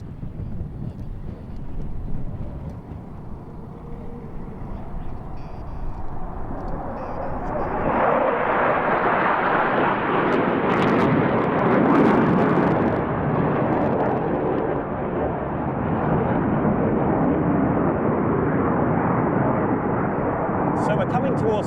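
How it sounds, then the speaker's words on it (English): Black Eagles display jets at an air tattoo swell from a distant rumble into a loud, rushing roar as the formation splits apart, with wind buffeting and a commentator talking throughout. "2 aircraft barrel rolling around the formation, and now they're going to split in a manoeuvre they call the dizzying break."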